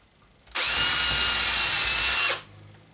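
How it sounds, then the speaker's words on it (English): A cordless drill bores a hole through foam for a K40 laser extractor filter, one loud sustained whirring run of nearly two seconds starting abruptly and stopping cleanly, with no talking. "I'm just going to attempt to drill a hole through the foam"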